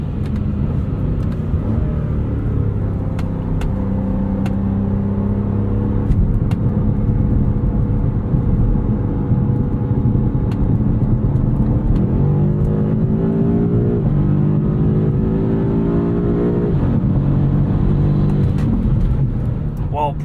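A 2022 BMW M5 CS accelerates hard along a road: a loud, close engine rumble climbs through the revs, drops at a gear change and climbs again, with a voice talking over it.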